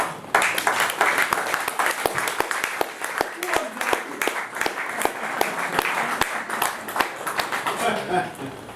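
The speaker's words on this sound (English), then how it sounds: "In fact, I applaud you, Jeff," A crowd applauds with a steady clatter of claps that goes on for several seconds and thins out toward the end.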